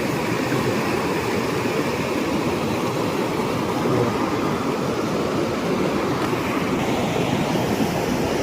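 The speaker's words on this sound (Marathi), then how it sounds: "धबधब्यावरचा नजारा. बघा पाणी बघा." Water pours down the Van Lakshmi waterfall in Vangani West, a loud, steady, unbroken roar of rushing and splashing that fills the whole stretch without pause.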